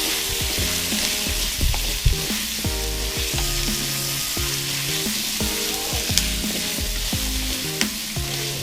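Food frying in a pan while being stirred, a steady loud sizzle with intermittent scraping and clinking of the utensil, close and constant with no talking.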